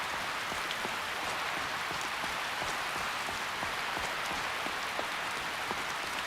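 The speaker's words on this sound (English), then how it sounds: "Man, it's raining pretty bad here." Heavy rain pours steadily, a dense hiss of drops pattering close by with no voices, constant and loud throughout.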